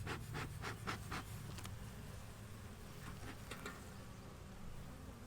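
Honey bees with some Russian bee in them buzz steadily at a hive, a dense continuous drone close by, with occasional scratchy knocks over the hum.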